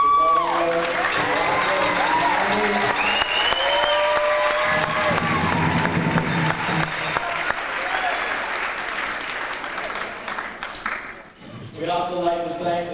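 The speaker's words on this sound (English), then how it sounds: "Give us a big applause." Applause from an audience at a high school football season gathering, a steady broadband clatter of clapping that runs through most of the stretch and fades near the end, with a voice speaking over it.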